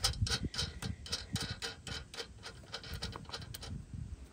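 A nut being spun onto a trailer hitch bolt by hand gives a quick run of light metallic ticks and clicks, close and quiet, with no talk.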